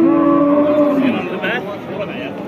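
A barren cow at a busy livestock bazaar in Uzbekistan gives a long, low moo close by, with voices chatting around it at the market.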